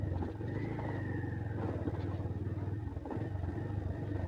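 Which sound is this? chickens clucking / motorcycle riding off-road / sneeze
motorcycle riding off-road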